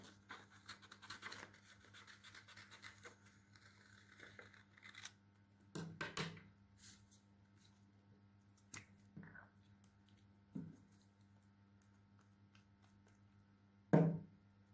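Scissors cutting paper during a school visual arts lesson, heard as a few faint, scattered snips and paper rustles in a quiet room.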